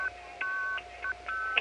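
An operator keys MF tones on a 1975 city telephone exchange: a quick series of five or six short, clean two-tone beeps with brief gaps between them, moderately loud and heard on their own.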